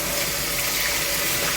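Hot tap water runs steadily into a kitchen sink as oily, spicy hands are rinsed while cooking a turkey and noodle stir-fry, a loud, close, continuous rushing with no talk.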